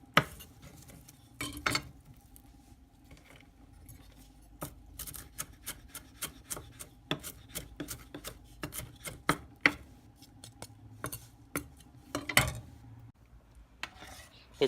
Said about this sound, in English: It's important to keep stirring your congee just to make sure that none of it sticks to the bottom of your pot